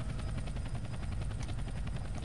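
Helicopter hovering overhead in a Roblox game, a loud continuous rotor chop with rapid even pulses over a heavy low engine rumble, steady throughout with no talking.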